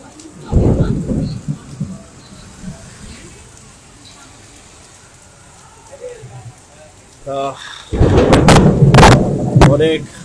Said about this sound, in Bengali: বজ্রপাত হচ্ছে বজ্রপাতের মুহূর্তে